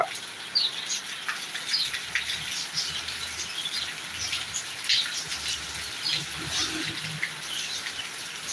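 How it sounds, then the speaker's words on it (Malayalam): Heavy rain pours down in Thiruvananthapuram as a steady, dense hiss throughout, with occasional sharp bird chirps cutting through from nearby. "നല്ല കിടിലം മഴയാണ് അടിപൊളി മഴ കേട്ടോ"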